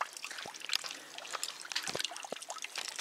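Water trickles and splashes faintly and steadily as a water bottle is refilled outdoors on a hiking trail, with no voices.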